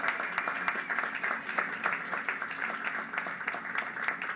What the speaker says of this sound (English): Yes, that's worth clapping about.